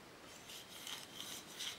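The blade of a 120-year-old Stanley No. 6 hand plane being sharpened, a faint steady rasping rub of steel on a sharpening stone in regular back-and-forth strokes, heard alone and close.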